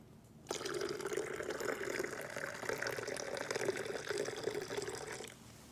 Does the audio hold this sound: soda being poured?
yes